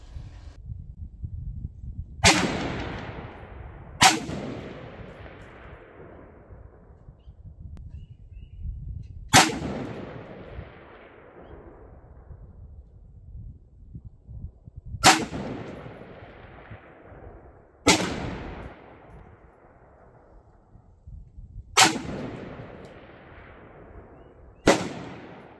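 Rifle shots at a busy outdoor shooting range, seven loud sharp cracks spaced a few seconds apart, each followed by a short decaying rumble over low background noise.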